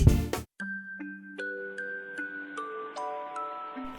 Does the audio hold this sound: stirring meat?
no